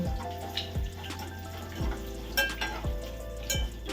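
Curry leaves crackle and sizzle in hot tempering oil with curry chickpeas and gongura, a steady frying hiss broken by a few soft, regular thumps from the pan.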